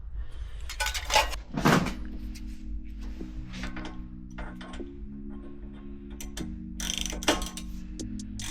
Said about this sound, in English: for this one you can use a 19mm socket to tighten it